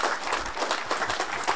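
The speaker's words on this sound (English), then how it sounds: "let's give Nate another round of applause" Audience applause at a radio technology meetup, a short burst of dense clapping from a crowd in a room, fairly loud and steady throughout.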